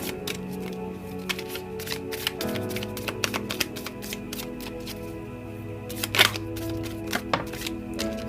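A deck of tarot cards is shuffled close by in a rapid series of crisp riffles and soft taps, with steady rhythm throughout and faint background music underneath.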